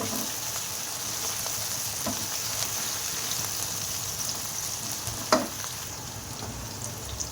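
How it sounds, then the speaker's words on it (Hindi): Steady crackling sizzle of chopped garlic sautéing in a pan, continuous and close, with a brief clink of a utensil partway through. "1 मिनट तक सौते करेंगे।"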